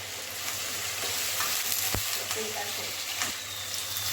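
Onion, tomato and chicken masala fry in a pan with a steady close sizzle, broken by occasional scraping stirs and light clinks.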